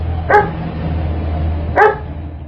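Two separate dog barks, loud and close, spaced about a second and a half apart over a low steady hum.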